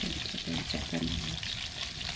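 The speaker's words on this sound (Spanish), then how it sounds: "Ahora vamos a echar este cebolla." Chopped onion sizzles steadily in a hot, greasy pan for a spicy Andean wheat dish, a dense close frying hiss with faint voices murmuring underneath.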